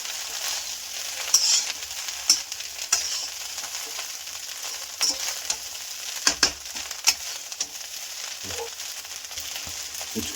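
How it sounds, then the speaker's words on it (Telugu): Fried rice sizzles steadily in a pan while a spoon stirs and scrapes it in irregular knocks and clatters, close up, with no talking. "అంతా కలుపుకోవాలండి ఒకసారి."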